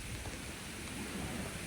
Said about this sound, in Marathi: पाऊस बघा कसा सुरू आहे.